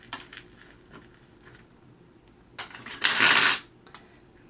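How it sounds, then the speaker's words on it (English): Metal spoon scraping and scooping sand into a jar, heard as light clinks and a dense gritty burst of scraping near the end, with a few soft taps before it and one after. "Get a little assistance from my handy dandy spoon."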